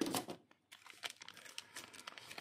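Tape being peeled off the plastic packaging bag of a He-Man Origins Wave 5 toy, a short burst of crinkling and tearing followed by smaller crackles of plastic, close and clear with no talk.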